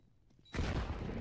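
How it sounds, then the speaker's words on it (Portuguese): A sudden burst of gunfire erupts in a Counter-Strike: Global Offensive match and carries on as a dense, sustained roar after a quiet start. "O Caluber vem ali pela base CT trocando tiros, finalizando o round"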